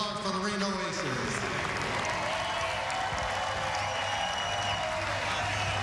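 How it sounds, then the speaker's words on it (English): Crowd applause for the Reno Aces baseball team at a stadium, a dense continuous wash of distant clapping and cheering that holds steady, with a reverberant announcer voice at the start. "Fans, let's have a hearty round of applause for the Reno Aces."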